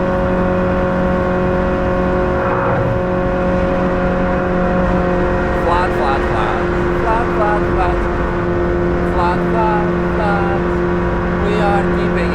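A Nissan Micra K11 held at full throttle around the Nürburgring: a loud, sustained, steady engine drone heard from inside the car, with no breaks for gear changes or lifts, and brief higher chirps toward the middle.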